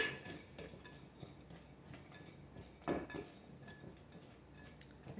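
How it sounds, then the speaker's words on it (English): Spoon stirring nuts, coconut and cinnamon in a bowl, giving soft scraping and light clinks in an irregular rhythm, close and quiet, with one louder clatter partway through. "I'm going to stir that to combine everything."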